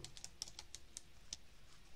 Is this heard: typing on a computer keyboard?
yes